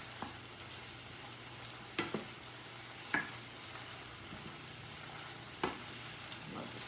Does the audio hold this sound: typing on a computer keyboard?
no